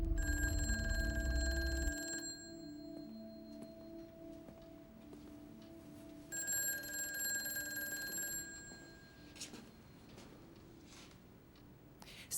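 An old-style telephone bell rings in a quiet room, two separate bursts of bright, jangling ringing with a muted, rustling pause between them.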